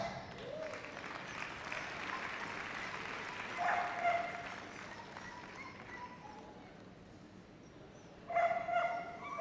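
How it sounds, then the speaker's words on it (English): Faint, distant applause fills a hall at the Young Kennel Club agility awards at Crufts 2012, steady then rising briefly twice, with dogs barking and yipping in the background. "So let's have a big round of applause again for the winner, Chloe Machon."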